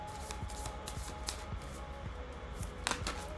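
Tarot cards are shuffled by hand in short, quiet riffling bursts with soft crisp slaps repeating every half second or so, faint and close with no voices.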